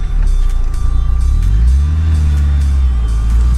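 A Lada Niva 4x4 (Lada 4x4) engine revs loud and close while turning around off-road in severe conditions, a deep steady rumble swelling and easing as the throttle rises and falls.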